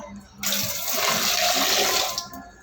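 Water gushes out of a fish tank in one continuous splashing pour lasting about two seconds, close and fairly loud, then stops abruptly.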